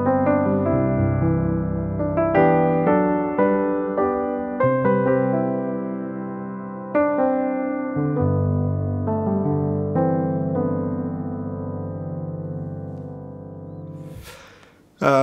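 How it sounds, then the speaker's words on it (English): A grand piano patch on a Nord Stage 4 keyboard plays sustained chords and melodic notes, full and close, with a brief noisy burst at the very end. "so I have just a grand piano that's on there. It sounds like this."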